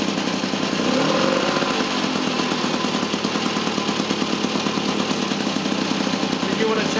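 A small petrol engine powering a 5-inch gauge Class 08 model locomotive runs with a steady, loud, rapid chugging throb throughout, close by and continuous as the locomotive moves off.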